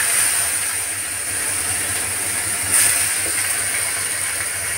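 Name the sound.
onions frying in oil with spices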